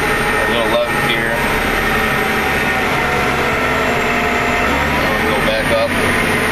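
A John Deere 9530 tractor engine droning loud and steady from inside the cab as it throttles back and the automatic power shift downshifts, with a continuous heavy rumble and faint voices under it.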